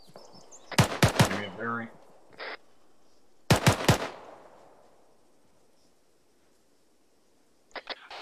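Rifle fire in the military shooter ArmA 3 comes as two sharp bursts of close, loud shots separated by a few seconds, each trailing into echo, with a voice speaking between them and faint shots at the end.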